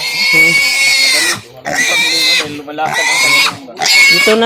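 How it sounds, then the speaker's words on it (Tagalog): A pig squeals loudly in four long, piercing bursts with short pauses between them, very close and harsh. "Laging sumisigaw yung baboy."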